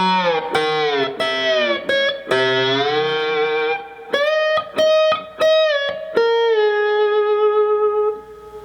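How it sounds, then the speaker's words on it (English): Slide guitar playing double stops in the instrumental section of a song, with harmonized notes gliding between positions in a series of sustained phrases, the last one held and fading out. "Okay, now moving into the final section of this instrumental slide part."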